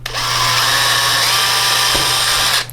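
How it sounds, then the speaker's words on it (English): A power drill turns slowly through plastic, a steady, moderately loud whir with grinding bite that runs for a couple of seconds before stopping abruptly. "Here I could just barely run the drill and it still cuts quite nicely."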